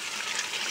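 A stream of water pours steadily from a pipe outdoors, a continuous close rushing gush at moderate level, with no talk.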